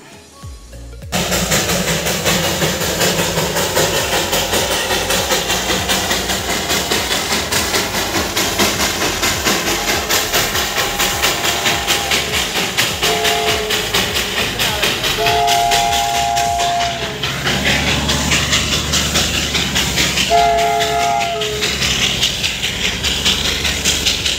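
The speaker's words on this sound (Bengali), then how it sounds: "বাতাসিয়া লুপের মধ্যে টয় ট্রেনটা আসে, তো সেটারই ভিডিও তোমাদেরকে একদম দেখাবো এক্ষুনি" The Darjeeling toy train rolls into Batasia Loop with a loud, continuous rumble and rattle of wheels and carriages, and its whistle sounds in two short bursts partway through. No one speaks.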